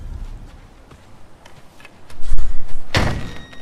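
A frozen door being forced open in God of War Ragnarök, a low rumbling strain that builds into a loud heavy thud and grinding crack near the end, close and alone.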